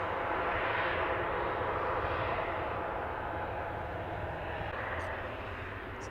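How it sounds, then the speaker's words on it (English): A Ryanair Boeing 737-800 airliner at Manchester Airport, a broad steady engine roar heard from outside, loud and continuous throughout. "this is the Ryanair going to Pisa, 737-800, registration 9HQDH, 9-year-old aircraft"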